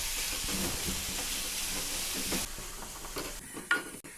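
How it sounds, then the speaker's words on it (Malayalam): Chopped onions sauté in leftover hot ghee for paneer biryani, giving a steady close sizzle and hiss with soft stirring scrapes. The sizzle thins near the end, where a couple of sharp utensil knocks stand out. "ബാക്കി വന്ന നെയ്യിലേക്ക് നമുക്കിനി ഈ സവാള നന്നായിട്ട് വഴറ്റിയെടുക്കാം"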